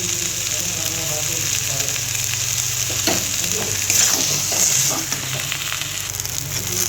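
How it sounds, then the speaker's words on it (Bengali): Banana flower and red lentils stir-fried in a pan, a steady close sizzle running throughout with scraping spatula strokes clustering in the middle, with no talking. "দেখুন বন্ধুরা, এইভাবে নেড়ে চেড়ে একটু কষিয়ে নিতে হবে।"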